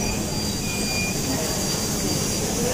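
The airport train at Shanghai Pudong International Airport runs with a continuous rushing rumble, and a thin high whine sits steadily over it throughout.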